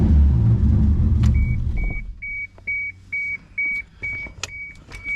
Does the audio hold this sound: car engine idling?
yes